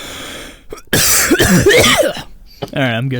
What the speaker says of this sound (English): I have to cough really quick.